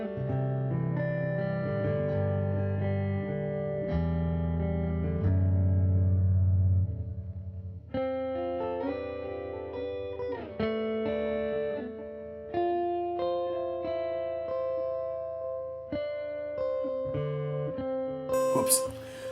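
Electric guitar on a clean tone with delay, played through MainStage for worship music: sustained chords with echoing repeats, then separate picked notes and strums trailing off into delay, loud and alone.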